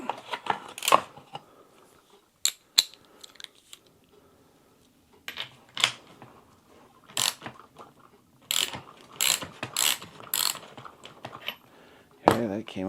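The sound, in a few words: removing a bolt from a Mossberg 940 shotgun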